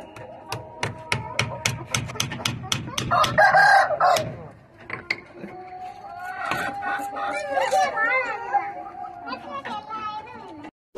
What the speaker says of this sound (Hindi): ये मुर्गा जो है बहुत ही खतरनाक है